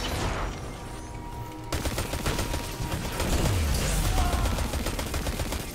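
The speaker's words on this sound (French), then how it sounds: "On tire de par derrière, non?" Rapid gunfire crackles from behind during a Destiny 2 firefight on Mercury, a dense continuous barrage of shots with a low rumble underneath, steady and fairly loud throughout.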